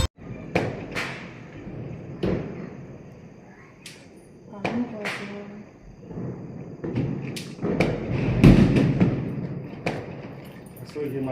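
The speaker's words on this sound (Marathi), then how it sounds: "सगळीकडे फटाक्याचा आवाज सुरू झालेला आहे" Diwali firecrackers burst in sharp separate cracks and thuds, some near and some farther off, scattered irregularly over a murmur of background voices.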